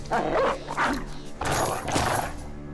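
A dog in the Beast Slayers video game barks and yips several times in quick bursts, close and fairly loud, over a steady game background.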